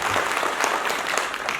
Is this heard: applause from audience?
yes